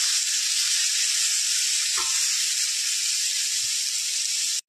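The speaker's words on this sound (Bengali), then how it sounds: "আমার সবজিগুলো পুরো একদম ভাজা হয়ে গেল।" Mixed vegetables fry in a pan with a loud, steady, bright sizzle, one brief stir or scrape heard near the middle.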